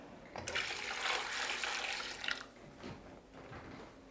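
Hot water pours into a container in a steady splashing gush for about two seconds, then tapers to a quieter trickle and drips, with no voices.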